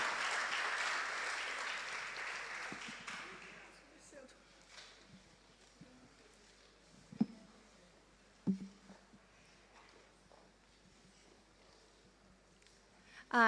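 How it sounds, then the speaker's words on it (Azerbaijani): Church audience applauding for invited guests, clapping loud at first and fading out after about four seconds, followed by quiet room sounds with a few knocks and footsteps. "Поаплодируем им."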